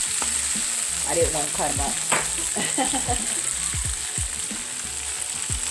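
Chinese cabbage leaves from a home garden fry loudly in a pan, a dense continuous sizzle close up, while a person talks over the frying.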